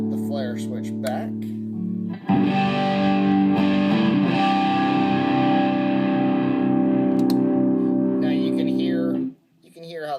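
Electric guitar played through a Yellow Cab overdrive pedal with the flare switch engaged for extra compression, a strummed chord ringing out loud and sustained for several seconds before cutting off, preceded by a brief softer chord.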